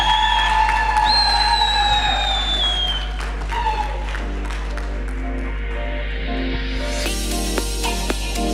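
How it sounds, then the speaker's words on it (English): Audience applause for a season 13 winner at a show finale, a dense sustained wash of clapping and cheering with a steady low hum beneath and a voice speaking briefly over it. "Please, ladies and gentlemen, a big round of applause."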